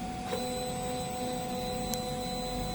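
A DTF printer runs a nozzle check after a head cleaning and rubber wiper wipe, giving a steady mechanical hum and whir with faint tonal whine, continuous and fairly close, with no talking.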